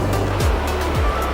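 Ocean waves wash onto a quiet beach at Laweung, Aceh, a loud steady surf hiss with low rumbling swells rolling in beneath it.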